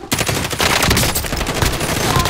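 Rapid automatic gunfire crackles in a dense, continuous burst as enemies shoot at the player in an online shooter game, loud and close with no talk over it.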